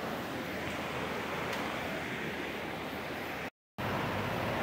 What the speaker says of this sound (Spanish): van a pasar acá el río que está crecido